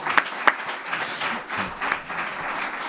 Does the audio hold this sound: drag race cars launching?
no